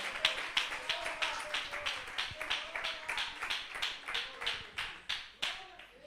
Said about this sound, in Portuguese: Podem bater as palmas para o Senhor